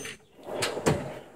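A Snap-on tool box drawer slides open with a soft metallic scrape and a couple of brief clunks, heard close and moderately loud.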